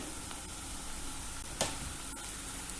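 Garlic sizzles steadily after going into a hot pan with lentil pie vegetables, a continuous close hiss with one brief sharp clatter midway and no talking.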